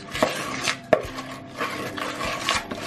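Spoon scraping Nutella brownie batter down the sides of a bowl, a few distinct knocks and rasping scrapes at close range, with no talking.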